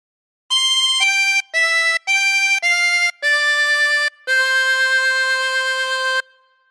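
A chromatic harmonica plays the melody of Silent Night as a sequence of clear sustained notes with brief breaths between phrases, the last note held long, loud and alone.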